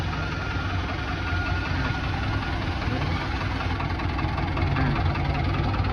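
A Ford 6640 tractor engine idles steadily during a hydraulic system test, a constant near, low rumble with mechanical knocking texture and no speech over it.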